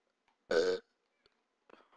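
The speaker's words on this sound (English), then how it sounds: "Sorry. Burp." One short, close burp breaks a quiet room, followed by a few faint clicks and rustles.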